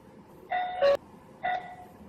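A Kenpro KP-HD703D WiFi doorbell's wireless chime rings a clear ding-dong, with a third tone following after a short pause, at moderate volume and with no talk over it.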